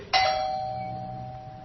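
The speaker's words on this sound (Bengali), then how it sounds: "আর ঠিক সেই মুহূর্তে বাইরের কলিং বেলটা বেজে ওঠে।" A doorbell rings once as a sound effect in an animated horror story: a single bright ding that rings on and slowly fades, with no voices.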